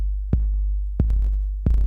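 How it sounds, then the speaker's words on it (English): Three punchy kick drum hits in a steady, evenly spaced rhythm, each with a low booming body that buzzes and rattles with distortion from a too-fast compressor release, loud and close with nothing else playing. "you hear what's called distortion."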